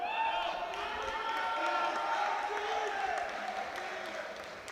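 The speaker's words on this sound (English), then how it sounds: "A lot of support here from the home crowd." Home crowd at a European Open Classic powerlifting championship applauding and cheering steadily through a bench press lift, a dense wash of clapping and voices that stays even throughout.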